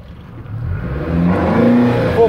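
A Robalo 22 center-console boat's outboard engine opens up to full throttle, the motor note climbing steadily in pitch and loudness as it accelerates, close and dominant with no talk.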